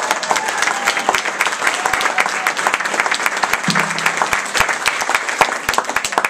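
Wedding guests at a reception applaud the bridesmaids, a loud, continuous patter of many hands with sharp individual claps standing out, a faint tone humming underneath.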